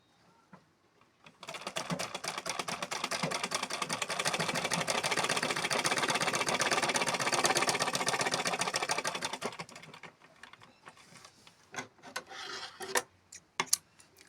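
A sewing machine runs steadily for about eight seconds while stitching blouse fabric, a close, even whirring rattle that stops abruptly, followed by a few faint clicks and handling knocks.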